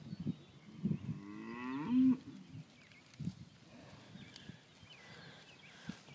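Cattle moo at a farm sale, with one clear drawn-out bellow near the start followed by quieter lowing and scattered background noise.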